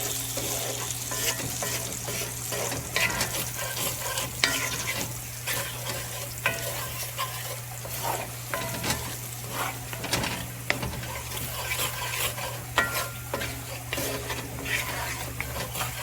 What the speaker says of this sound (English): we want to blend that flour into that butter and that sausage fat